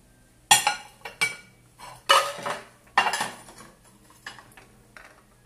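Stoneware china dishes clink and knock together in a handful of short, close bursts, with brief quiet gaps between handlings.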